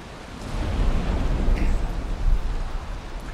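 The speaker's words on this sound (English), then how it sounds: "And it's raining." Steady rain falls in the video game Valheim, a dense, even wash of hissing patter with a low rumbling undertone, fairly loud and with no talk over it.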